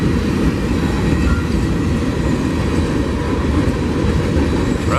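A freight train with two DPU locomotives passes close by in Sweetwater, Tennessee, producing a loud, dense, continuous rumble of rolling wheels and rail clatter throughout.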